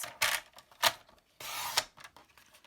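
A paper trimmer slicing through two stacked sheets of thick cardstock, heard as several close, rasping scrapes of the blade, one longer drawn-out pass in the middle, separated by short pauses, with no talking.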